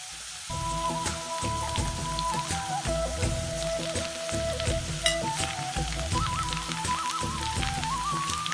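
Chopped vegetables frying in a pan for aviyal, a steady close sizzle and crackle with occasional stirring clinks and scrapes throughout.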